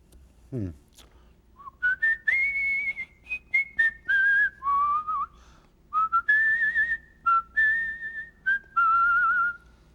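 A man whistles a tune, a clear melodic line of sustained and sliding notes in short phrases with brief gaps, close and alone after a short low sound at the start.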